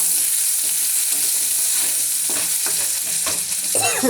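Bottle gourd cooks in a pan with cumin, dried chili and bay leaf, a steady sizzle of oil with a few scraping stirs near the end, close and without talk.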